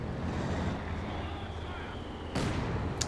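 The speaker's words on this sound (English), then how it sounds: "Oh, that mortar team." A Company of Heroes 2 mortar team firing during a 1v1 match: a sharp distant thump over a rumbling battlefield and wind-like background, followed by a faint second crack.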